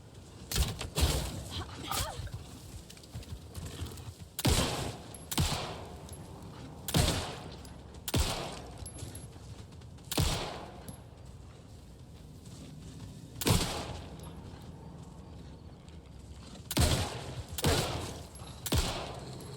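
Shotgun blasts in the video game Alan Wake II, a series of loud, sharp booms spaced a second or more apart, some in quick pairs, over a quiet background.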